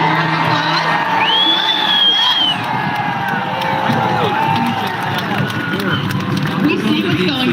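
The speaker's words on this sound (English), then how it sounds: "Can I get a round of applause?" A large outdoor crowd at the Million MAGA March in Washington DC cheering, whooping and applauding in a continuous roar, with shouts rising above the mass of noise and voices in the mix.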